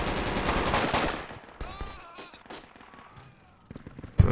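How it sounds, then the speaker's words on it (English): Gunfire rings out in a military shooter video game, a dense burst of shots over the first second or so, then sparser distant cracks and a sharp loud shot near the end, with faint tonal game sounds between. "Okay, I'm gonna try and shoot from up here at him."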